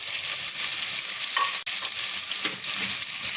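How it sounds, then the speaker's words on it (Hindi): Chicken frying in a pan with whisked yogurt being stirred in, for a chicken salan curry; a steady close sizzle with stirring scrapes and one sharp brief click midway, no talking. "अब मैं इसमें डाल रही हूँ खाने के 2 चम्मच दही के, जिसको मैंने अच्छी तरह से फेंट लिया है"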